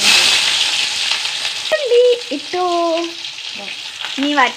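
Mustard seeds spluttering with garlic frying in a pan, a loud close continuous sizzle with crackling pops, while someone talks over it.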